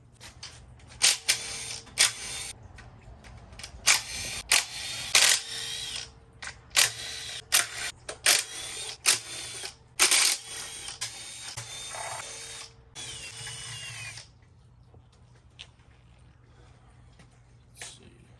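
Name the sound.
power tool removing 10 mm bolts from LS7 engine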